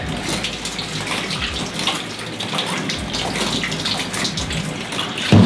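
Water gushing steadily from a tap into a film development tank to wash black and white film, a continuous close splashing rush that ends with a brief louder slosh.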